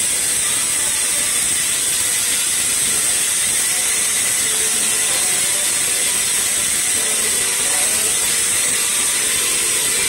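Steady, loud steam hisses without a break while corn cooks in a pot in a home kitchen, with a faint rattling underneath and no talking.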